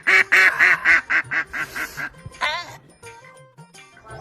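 Several ducks quack in a loud, rapid run of about a dozen calls close by, then fade into scattered softer quacks with a little background voice.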